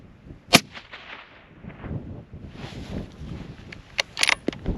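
A rifle fires a single sharp crack at a long-range shooting facility in Texas, then quieter rustling and handling noises follow, with a few faint clicks and knocks near the end.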